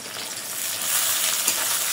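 Onions frying in a wok, a close, loud, continuous sizzle and hiss that swells slightly partway through, heard alone without talk.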